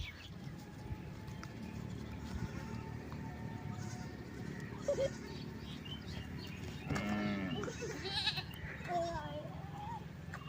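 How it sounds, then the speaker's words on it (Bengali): A goat led home from a village field in rural Bengal bleats a few times, briefly and at moderate distance, over a steady outdoor background with faint birdsong. "ছাগলটা মাঠে থেকে নিয়ে যাচ্ছে ঘরে"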